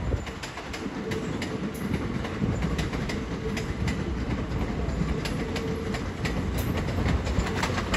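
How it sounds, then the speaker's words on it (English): Southeastern Class 375 electric multiple unit arriving at Ashford International station, a steady broadband rumble and rail noise running throughout with faint clicks of wheels over joints and birds chirping in the background. "Arriving now is 375. 828, I think that is."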